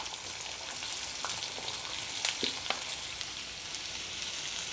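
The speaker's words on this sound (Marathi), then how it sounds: "आता आपण कांदा घालूयात। कांदा आपल्याला चांगला परतून घ्यायचा आहे।" Onions sautéing in about two spoonfuls of oil with cumin seeds in a home kitchen pan, giving a steady close sizzle and fry hiss with a few sharp crackles and pops scattered through.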